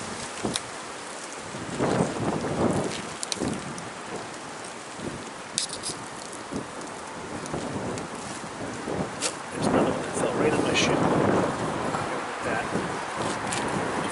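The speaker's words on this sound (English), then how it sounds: "Got branches falling down around me. That's how windy it is." Strong gusts roar through trees in surges, rising and falling over steady rustling, with occasional sharp cracks of branches falling nearby.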